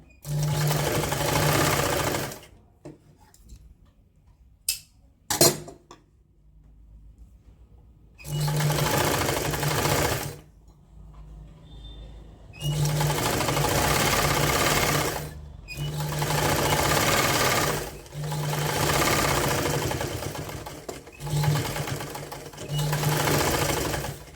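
A sewing machine double-stitches a rounded strip of edging on a knitted woollen sock, running in several sustained bursts separated by short pauses, close and steady.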